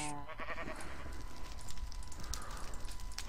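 A Minecraft sheep bleats in a wavering, nasal cry near the start, followed by a steady low background hum without speech.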